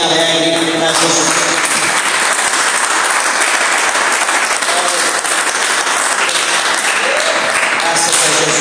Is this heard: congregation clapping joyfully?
yes